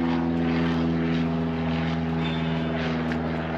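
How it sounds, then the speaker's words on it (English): Propeller airplane passing overhead, a steady loud droning engine hum with a strong tonal buzz that holds throughout, outdoors with no talk. "There's another plane."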